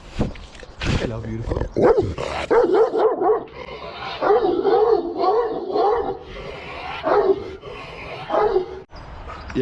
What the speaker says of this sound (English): the only thing at this location is angry dogs